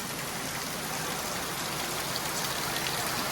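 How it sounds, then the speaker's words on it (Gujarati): Heavy rain pours on a wedding pandal at a haldi function, a dense, steady hiss of drops hitting the canopy and ground, close and continuous, with no voices. "ભાઈ જો જોરદાર વરસાદ ચાલુ થઈ ગયો અને મંડપની અંદર પાણી આવી ગયું."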